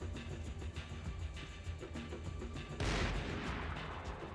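Gunfire in the video game Max Payne 3, a dense stream of rapid shots and booms that swells into a louder sustained burst partway through, with no talking.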